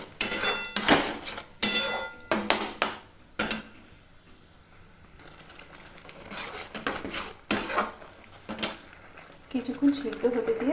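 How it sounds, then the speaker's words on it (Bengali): Bottle gourd peel paste is stirred in a metal wok, giving close, clattering scrapes of a spatula against the pan in irregular bursts, with a quieter pause partway through. "তারপর কিছুক্ষণ কড়াইতে নেড়ে নেব।"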